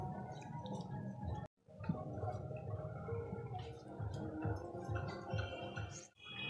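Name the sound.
squeezing water out of washed chicken meat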